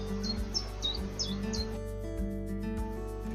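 A blackbird, likely the browner, yellow-billed female, calls in a garden with short, bright chirps repeating in quick bursts in the first half, then falls quiet over a steady low background hum.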